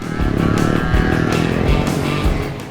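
A little Honda Sky dirt bike races around an oval track among other machines, its engine buzzing loud and continuous with rhythmic pulsing revs and no pauses, close up the whole time.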